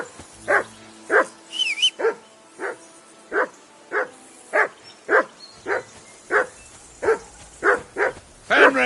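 A video game dog barks steadily around a dozen times in an even, evenly spaced rhythm, close and fairly loud, with a brief whine partway through and faint game ambience beneath.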